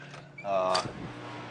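A door into an MCC electrical room creaks briefly as it swings open, a short squeaky groan heard close up against a faint background hum.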